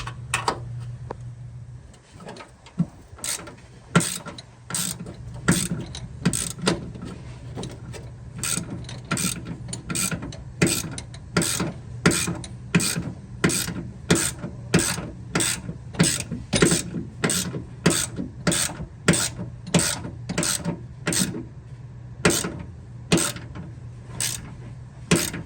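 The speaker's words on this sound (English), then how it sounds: "you can hold the nut and spin the bolt, and it'll tension this" A ratchet wrench clicks steadily as a bolt is tightened while the nut is held during a car battery relocation, a long run of close, crisp, regular clicks with brief pauses and no talk.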